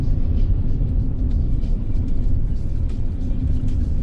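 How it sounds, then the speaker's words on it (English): Toyota 4Runner driving off across open western Kansas country, a loud, steady low engine and road rumble that holds constant throughout, with no voices. "4Runner driving off into the sunset."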